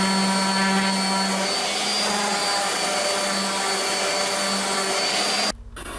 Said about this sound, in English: clamping device so it sits in front of the fan and blows on it